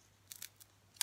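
Scissors snip through thin gold foil in three or four quick, crisp cuts, close and clear against a quiet room, the last snip sharpest.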